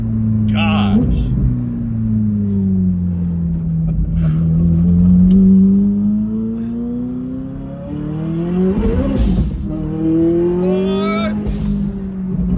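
Car engine revving and accelerating hard at about three-quarter throttle, a loud rising and falling drone with a brief squeal, while excited voices talk over it.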